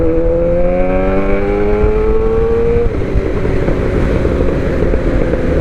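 Sport motorcycle, a Suzuki GSXR750 or Yamaha R1 on a group ride along a road, its engine droning loud and close and rising steadily in pitch, then shifting gear and settling into a rough rumble over constant wind noise.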